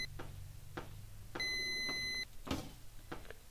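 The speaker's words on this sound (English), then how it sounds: "What's that sound? Is that my oven beeping?" A kitchen oven beeps in the horror game Doghouse 2: one steady electronic tone held for just under a second amid quiet ambient clicks and thuds.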